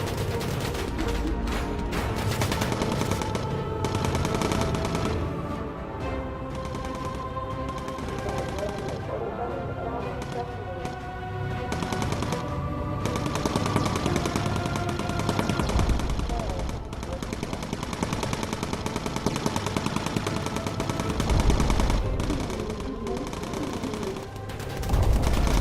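Bomber aircraft cannon firing in the video game Bomber Crew: sustained rapid bursts of gunfire rattle almost continuously for the whole stretch, loud and dense, with game engine and effects noise underneath.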